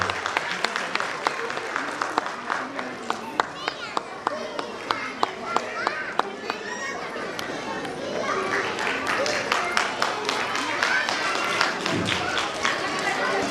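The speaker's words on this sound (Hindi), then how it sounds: "जोरदार तालियों में स्वागत कीजिए।" An audience at a school annual function claps, with sharp scattered claps and a steadier wash of applause alongside crowd chatter and children's voices.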